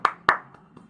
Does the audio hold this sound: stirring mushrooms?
no